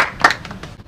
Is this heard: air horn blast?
no